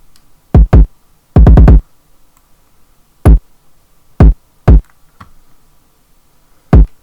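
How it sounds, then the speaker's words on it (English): Punchy kick drum in a bounce trap beat, heard alone in a sparse pattern of single hits, quick doubles and a fast run of four, each with a deep booming low end. "Next you want the kick. The kick, very important"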